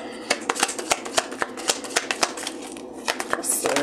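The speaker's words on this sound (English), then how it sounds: "Let's get a shuffle going for these." A deck of cards being shuffled by hand, a quick series of crisp riffling flutters and soft taps repeating close to the microphone, with quiet background underneath.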